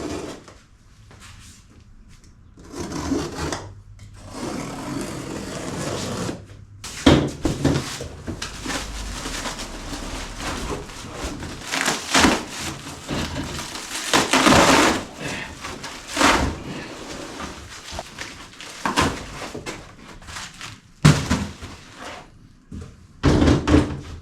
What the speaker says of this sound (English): let's open up box 2